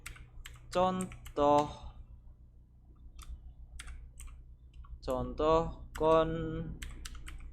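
Rapid clicks of someone typing a Java compile command into a console on a computer keyboard, soft and intermittent between stretches of someone talking.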